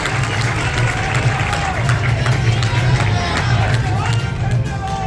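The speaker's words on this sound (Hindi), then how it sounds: "जरा राजन जी के लिए तालियां बजा के स्वागत कर दीजिए इंदौर वालों।" A crowd in Indore applauds to welcome a guest at an airport event marking a first flight, steady clapping and cheering over a constant low hum, with murmuring voices in the background.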